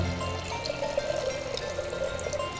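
Ozonated water from an ozone water machine poured into a beaker up to 800 cc, a steady continuous liquid flow with a hollow filling tone, close and moderately loud.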